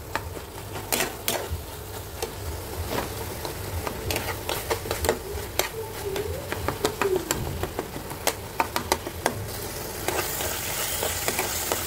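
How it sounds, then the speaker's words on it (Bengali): Meat-filled puli pitha dumplings fry in oil for about twelve seconds: a continuous hiss sprinkled with frequent sharp pops and crackles, close and moderately loud, with no voices. "এগুলো একবারে ভাজা ভাজা হবে।"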